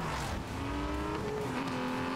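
A Mercedes SL 65 AMG in the racing game Need for Speed: Most Wanted (2012), its engine droning steadily and loud with pitch shifts, tire noise and traffic mixed in, no talk.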